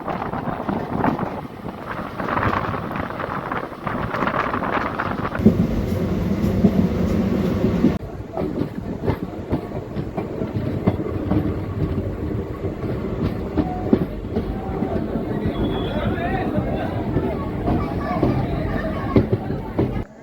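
The Adilabad–Pandharpur Express runs on its rails, a steady rolling rumble with clickety-clack from the wheels and wind buffeting the microphone, lasting throughout.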